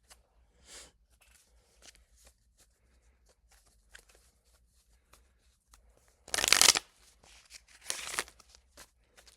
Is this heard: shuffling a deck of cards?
yes